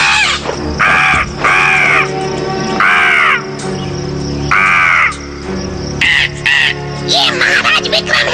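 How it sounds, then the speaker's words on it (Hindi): A crow caws loudly and close by in a series of harsh, repeated calls, spaced in bursts with brief pauses between them, over a faint background hum. "क्या तुम लोग उस कौवे को बुला सकते हो?"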